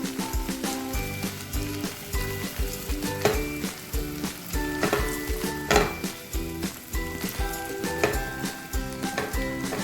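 Tomato and green chilli paste fries in a pan with a loud, continuous sizzle, broken by repeated scrapes and clanks of stirring against the metal.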